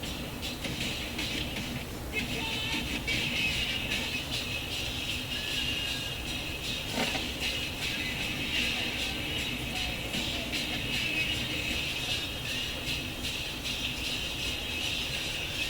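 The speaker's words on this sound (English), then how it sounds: "what you're hearing is the needle itself" Needle noise from a Marconi fold-out record player, a steady close hiss and crackly rattle running throughout with little change, at fairly low level.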